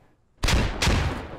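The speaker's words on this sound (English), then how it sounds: "See where these frags land." Two frag grenades burst in quick succession in the military shooter game Squad, each a loud, close, booming blast with a rumbling tail that carries on after the second hit.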